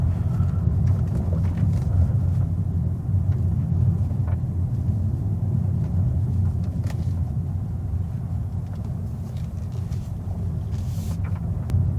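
Steady low road rumble of a BMW i4 M50 electric car rolling over gravel and uneven surfaces, with a continuous muffled roar and faint crunching texture throughout.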